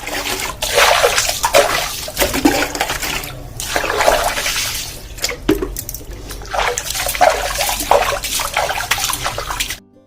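A stone grinding mortar being washed with water in a home kitchen, with water splashing and trickling in uneven bursts, close and fairly loud, ending abruptly.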